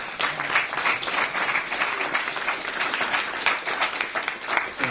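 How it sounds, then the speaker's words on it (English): An audience at a keynote evening gives a round of applause, a lively, uneven clatter of many hands with individual claps standing out, steady across the whole stretch. "we should say a big round of applause to everyone behind tonight"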